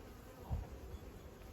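A quiet, steady hum of calm honeybees buzzing at an apiary hive, with a brief louder swell as one passes close by.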